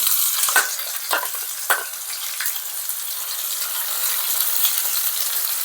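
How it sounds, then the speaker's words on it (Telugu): Ginger-garlic paste fries in hot oil for a chicken pickle: a steady, close sizzle, with a few clinks of stirring early on. "మనం ఇందులోనే అల్లం వెల్లిగడ్డ పేస్ట్ వేసుకొని ఫ్రై చేసుకుందాం."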